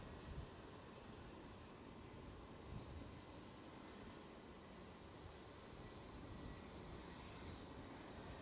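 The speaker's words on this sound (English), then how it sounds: "So we've got an EasyJet just about to depart" An easyJet airliner about to depart at Edinburgh Airport produces a faint, distant, steady engine roar that holds evenly throughout with no voices.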